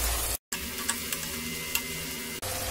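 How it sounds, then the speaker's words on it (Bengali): Chopped onions fry in oil over a medium gas flame, a steady close sizzle with a few stirring clicks and a brief cut near the start. "গ্যাসটা মাঝারি মানে মিডিয়ামে করে পেঁয়াজটা ভেজে নেব।"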